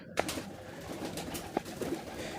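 Pigeons, including Giribaz birds, coo softly on a pigeon farm housing a few hundred birds, with scattered soft calls and wing flutters over a steady low background hum.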